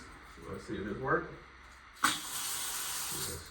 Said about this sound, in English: Water on full blast.